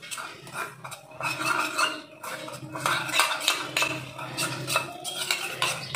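A spoon scrapes and clinks steadily against a bowl while a face pack paste is stirred, a close, continuous run of scraping strokes with no talk.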